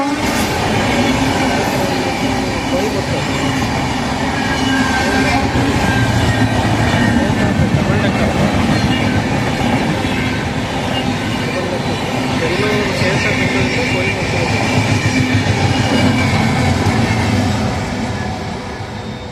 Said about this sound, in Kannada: ಫಾಸ್ಟಾಗಿ ಹೋಗ್ತಾ ಇದೆ ಟ್ರೈನ್.